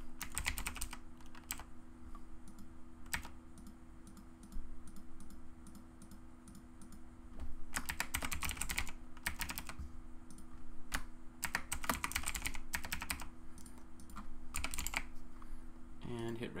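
Typing on a computer keyboard while filling in a registration form: scattered bursts of quick key clicks with pauses between them, faint and close, over a low steady hum.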